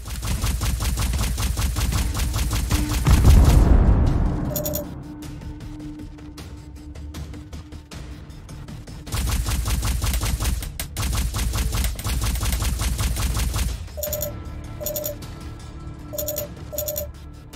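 Laser weapons firing in the space shooter game Silverwing, rapid bursts of zaps and shots over a droning game soundtrack, with a loud blast early on and clusters of electronic pings later.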